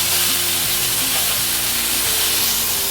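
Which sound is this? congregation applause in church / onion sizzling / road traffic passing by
onion sizzling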